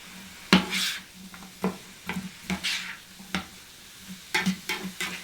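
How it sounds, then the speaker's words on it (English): Onions and a tablespoon of sriracha stirred in a pan, a utensil scraping and tapping the pan in irregular close strokes over a soft background sizzle, no talking. "So we'll go ahead and stir this up a bit."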